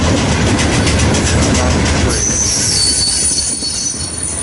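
A freight train with UP, NS and hazmat cars rolls past close by, a loud continuous rumble of wheels on rails with squealing and clacking throughout.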